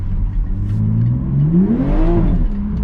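A 2021 Toyota Supra's engine revs under throttle, its pitch climbing smoothly and then easing off, loud and close with no voices.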